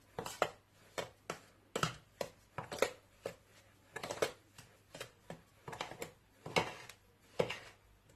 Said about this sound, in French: Je vais mélanger avec une cuillère.